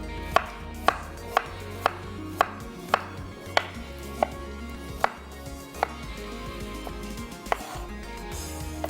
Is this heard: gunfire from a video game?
no